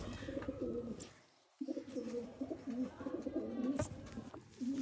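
Sialkoti pigeons coo softly and repeatedly nearby, low rolling calls with a brief pause midway and a few faint chirps in the background.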